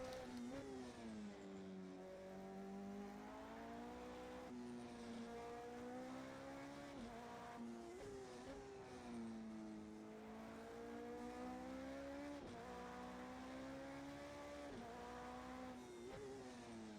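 A Porsche race car engine in the Project Cars 2 racing game, played in VR: a continuous, loud engine drone rising and falling through repeated revs and gear changes, with no talking.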